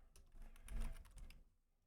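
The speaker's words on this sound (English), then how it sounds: "I guess I'll type it out." A brief run of close, quiet keystrokes on a computer keyboard, a quick cluster of taps that swells and then trails off into near silence.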